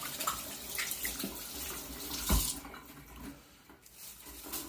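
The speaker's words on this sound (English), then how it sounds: "Then you're going to want to rinse your hands off." Tap water running steadily as hands are rinsed off at a sink while making sourdough bread, a soft continuous splashing with a brief louder gush midway.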